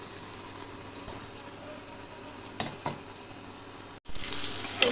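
Rohu fish roe frying in oil in a pan gives a low steady sizzle with a couple of soft knocks, then a brief cut and a brighter, louder hiss of frying.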